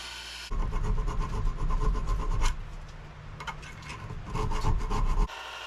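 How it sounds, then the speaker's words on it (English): Steel knife blade being filed flat with a hand file, a close, steady rasping scrape in repeated strokes that pause briefly around the middle, then resume. "we are filing this down to make it as flat as I can get it"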